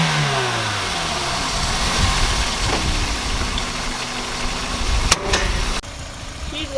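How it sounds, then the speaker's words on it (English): A 2000 Toyota Celica GTS with a cold air intake idles and revs after starting, its engine note sweeping up and settling close by, then a couple of sharp clicks and a drop near the end. "Let's start her up and take a look at the engine, eh?"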